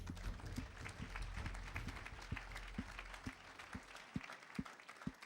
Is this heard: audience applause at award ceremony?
yes